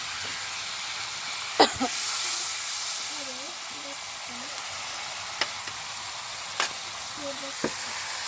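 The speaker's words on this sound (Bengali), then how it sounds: "সেগুলো কুটে ধুয়ে এখন রান্না করতেছি ঝোলে" Kalibaus and mola fish simmering in a curry, with a soft, steady sizzle and bubbling hiss throughout and a few sharp utensil knocks against the pot.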